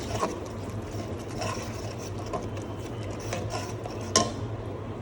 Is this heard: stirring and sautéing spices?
yes